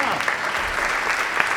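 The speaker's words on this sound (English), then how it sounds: "And yes, we'll take that applause" A concert audience applauds an orchestra at a festival: a dense, steady wash of clapping from a large crowd, loud and sustained, with voices underneath.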